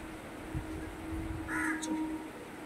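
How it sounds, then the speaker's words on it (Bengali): A crow caws once or twice at night, moderately close, over a steady background hush during the season's first rain. "রাত্রিবেলা আবার কাক ডাকছে,"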